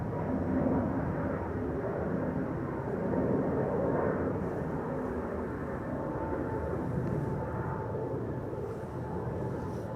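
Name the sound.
Airbus A321neo aircraft departing Schiphol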